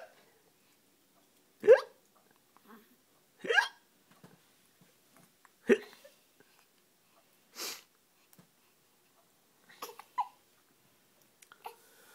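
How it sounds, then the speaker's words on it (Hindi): A baby hiccups repeatedly at intervals of about two seconds, each hiccup short and soft in an otherwise quiet room, with occasional small sniffs between them. "हिचकी बन रही है, हिचकी,"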